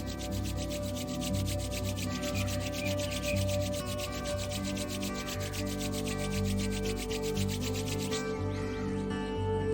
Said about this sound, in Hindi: दोनों हाथों को रब करेंगे आपस में। जितनी तेज कर सकते हो उतनी तेज रब कीजिए।